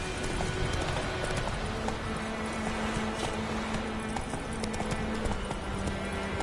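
Horse hooves galloping in The Witcher 3, a fast steady clip-clop beat under continuous game ambience and a faint musical drone.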